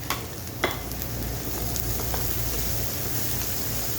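Green chilies and spices sautéing in a pan for dhaba-style aloo paratha filling, giving a steady, close frying sizzle with a soft clink of a utensil near the start.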